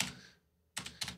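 A computer keyboard typing a short value into 3D stage-design software: a soft key press, a brief pause, then two quick close clicks, with no voices.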